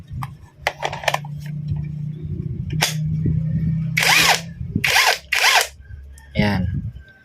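A Weiku 48V cordless impact wrench, an unbranded body on a branded battery, fires in three loud, close bursts of buzzing hammering and then one final short burst, with fainter handling noise between them.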